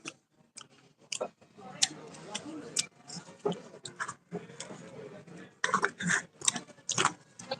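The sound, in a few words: chewing nuts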